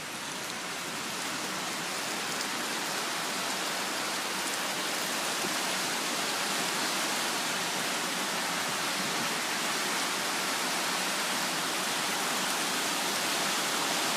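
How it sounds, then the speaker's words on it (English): A river in spring thaw flows beneath a bridge, producing a steady, broad rushing wash of water that stays constant and fairly loud from start to finish, with no voices. "Can you hear the river? I'm sitting on a bridge."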